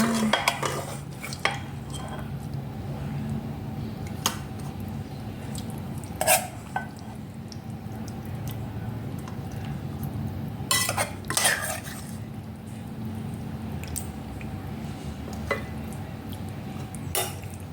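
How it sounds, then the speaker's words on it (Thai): Light clinks of a ladle and utensils against pots and bowls as bamboo shoot curry with sweet leaves is scooped into a bowl, scattered sharp taps over a steady low kitchen hum. "มาตักใส่ชามกันเลยค่ะ"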